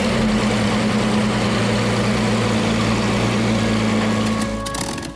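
A Supermarine Spitfire's piston aero engine runs steadily at close range, a loud, even droning roar with a strong low hum that holds constant before easing off at the very end.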